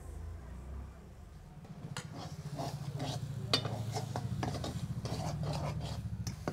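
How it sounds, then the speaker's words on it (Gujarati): Rajgira flour sheera with sugar being stirred in a pan, a close, continuous scraping and rasping of a spoon against metal that grows steadier and louder after the first couple of seconds. "તો ખાંડ સરસ રીતે ઓગળી જાય ત્યાં સુધી આપણે હલાવી લેવાનું છે."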